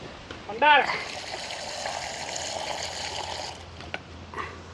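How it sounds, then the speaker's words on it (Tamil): Water is poured over tamarind in a home kitchen during lunch preparation, a steady close trickle lasting a few seconds after a brief voice, with a faint background hum. "தண்ணி ஊற்றியாச்சு."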